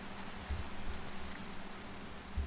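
Steady rain falls in Minecraft, a soft, even hiss of drops with occasional low thumps, quiet and continuous with no voices over it.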